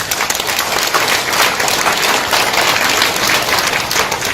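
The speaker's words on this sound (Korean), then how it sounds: "여러분 큰 박수 부탁드리겠습니다" Big round of audience applause at a lecture hall presentation, loud, dense and sustained clapping from many people with no break.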